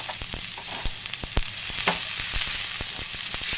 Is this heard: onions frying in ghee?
yes